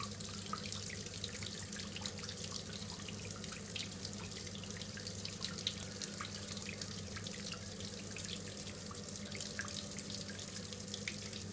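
Warm water runs steadily from a tap into a sink, a constant even splashing stream with faint drips, close and moderately quiet, no voices.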